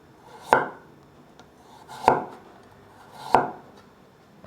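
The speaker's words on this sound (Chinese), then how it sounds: "把红萝卜切片" A knife slicing a peeled carrot on a cutting board: three sharp, close chops spaced about a second and a half apart, each a crisp thud with a brief ring, with quiet between.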